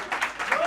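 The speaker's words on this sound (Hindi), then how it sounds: "जोरदार ताली होना चाहिए" Applause from an audience at a farewell gathering at an IAS coaching academy, a short burst of dense clapping with cheering voices mixed in, fairly close and steady throughout.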